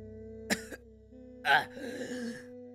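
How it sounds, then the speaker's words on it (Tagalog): A sudden sharp gasp and then a loud, rough cough, each a brief burst over a steady, low musical drone in a dramatized horror story. "Bigla itong humugot ng hininga at umubo ng napakalakas."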